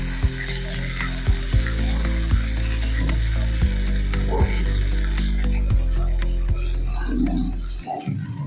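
Water splashes into a hot pan holding spice paste for a paneer curry and sizzles steadily and loudly, with regular knocks from stirring and a burst of bubbling near the end.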